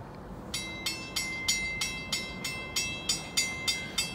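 A southbound freight train rolls past on a Kentucky rail line, its wheels striking rail joints in a steady, evenly spaced clickety-clack over a low rumble, close and continuous with no talk.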